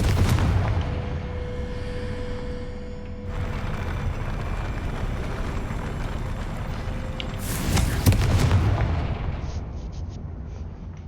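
Confringo fire-blast spells from the Hogwarts Legacy video game go off as a dense, booming burst of explosive game effects, loud and continuous. A heavier blast swells near the end before the sound thins out.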